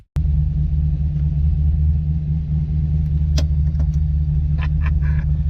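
A C5 Corvette fixed roof coupe with a cam and new clutch rumbles at a steady, loud idle, a deep continuous low drone with a few faint clicks over it.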